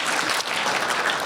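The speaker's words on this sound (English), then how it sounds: "Everyone give Nabila a big round of applause." An audience claps for Nabila, who was just called up in front of a children's gathering; a dense burst of applause, loud and close, fills the short moment without speech.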